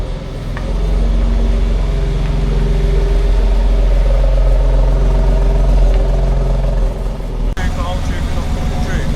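A BMW X3M drives slowly around a car park, its engine holding a steady, close, loud drone with people talking inside the car, until the sound cuts to a rougher, different tone near the end.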